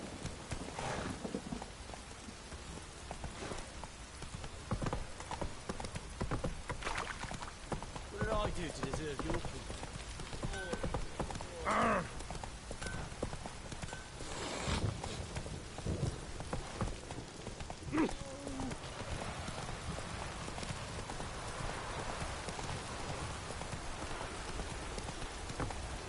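Geralt's horse Roach clip-clopping in The Witcher 3 video game, a steady hoof rhythm running under falling rain with a distant rumble, while someone speaks a line over it.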